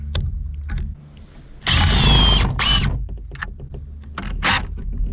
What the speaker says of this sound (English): This one's the Hart, the brushless model.